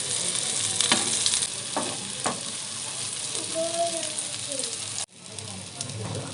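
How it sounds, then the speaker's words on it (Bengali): Dhoka lentil cakes crackle and sizzle as they fry in oil, with soft taps and scrapes as they are turned in the pan. The frying noise continues close and steady, then cuts sharply and resumes more quietly. "ধোকাগুলো এইভাবে উল্টে পাল্টে ভেজে নেব।"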